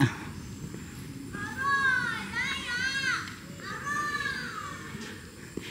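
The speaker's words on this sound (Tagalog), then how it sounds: "May palaruan ng mga bata." Children play at a park playground, their high shouts and squeals rising in bursts over a steady outdoor background of crowd noise at moderate distance.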